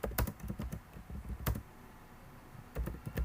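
Typing on a computer keyboard while entering code, with quick bursts of close, crisp key clicks separated by short pauses, heard alone without talk.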